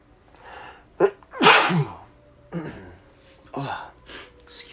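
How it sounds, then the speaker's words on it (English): A single loud, close human sneeze, preceded by a few breathy, hesitant inhalations and followed by quieter breaths, with no talking. "I feel like I'm going to sneeze."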